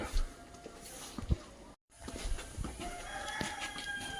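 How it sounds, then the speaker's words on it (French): A rooster crows in a town in Assilah, Morocco, its call fairly distant and mixed into outdoor street and ambient noise, with a short break in the sound partway through. "Et le coq chante toujours."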